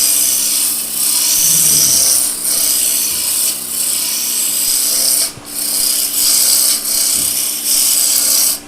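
Skew chisel shaving wood on a lathe while turning peg dolls, a loud continuous rasping hiss with several brief dips as the tool lifts off the spinning workpiece.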